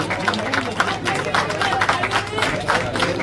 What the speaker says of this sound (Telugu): అందరూ గట్టిగా చప్పట్లతో వారికి మళ్ళీ అభినందనలు పలకండి